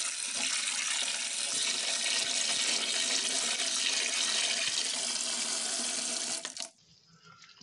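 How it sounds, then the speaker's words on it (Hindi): Fresh coriander leaves rinsed under a running kitchen tap, a steady loud gush of water into a sink that stops abruptly near the end. "तो अभी हम इसको पानी में करके ना धुल लेते हैं।"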